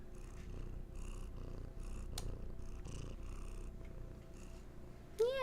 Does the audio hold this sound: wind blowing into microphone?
no